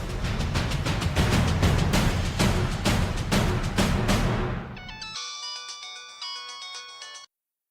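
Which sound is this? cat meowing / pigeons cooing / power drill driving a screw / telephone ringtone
telephone ringtone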